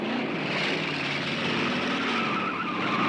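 Race car tires skid and squeal at a drag race, a loud, continuous roar of engine and tire noise lasting throughout with no voices.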